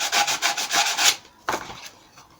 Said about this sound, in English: bit of sanding